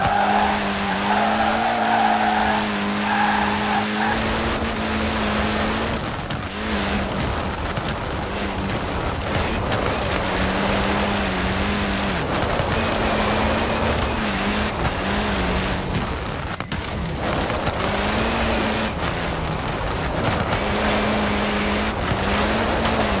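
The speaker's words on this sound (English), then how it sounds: "Enough throttle to push the power slide, enough brake to hold your grip." Car power-sliding through a drift in Forza Horizon 4, with loud continuous tyre squeal and skidding over a revving engine whose pitch rises and falls, sustained for the whole stretch with no talking.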